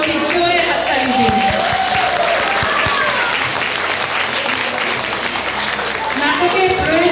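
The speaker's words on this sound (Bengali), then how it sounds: "ওদের জন্য সবাইকে অনুরোধ করছি জোরে হাততালি দিন।" An audience at a Bengali stage play claps loudly for the stage crew, a full, continuous burst of applause with crowd murmur, while a voice on the microphone talks over it throughout.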